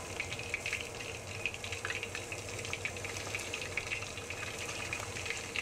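Chicken gizzards deep-fry in hot oil with no coating, a steady dense crackling hiss running throughout at close range, with no voices.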